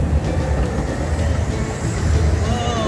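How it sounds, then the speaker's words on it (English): Steady rumbling of a miniature steam train at Redwood Valley Railway in Tilden Park, Berkeley, California fills the space, a continuous low roar of rolling wheels and carriage movement, with faint voices mixed in. "We're gonna ride the train!"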